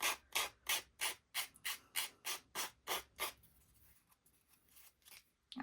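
Wooden earring edges filed by hand with a file or scissors, giving about eleven steady, evenly spaced rasping strokes up close, then quiet handling noise; one brief spoken word near the end.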